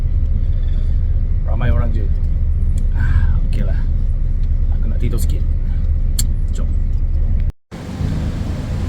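Low, steady rumble of a bus engine heard from inside while riding, continuous throughout with people talking over it, ending in a brief cut near the end.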